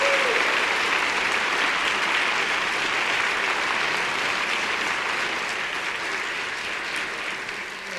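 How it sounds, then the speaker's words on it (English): A town hall forum audience gives musician Gao Hong a sustained round of applause after her performance, dense and steady for several seconds before easing slightly toward the end. "Let's have another round of applause for Gao Hong."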